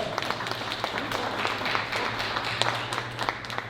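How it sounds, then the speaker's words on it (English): Audience at a Kwanzaa celebration applauding, steady dense clapping throughout with scattered voices and cheers mixed in. "can we just give them a round of applause today?"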